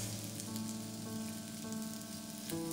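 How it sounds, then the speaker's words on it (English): Two medium onions frying in a pan over a medium-low flame give a steady, close sizzle that crackles evenly throughout, with no voices. "we're going to cook the onions for approximately 5 minutes or until lightly golden."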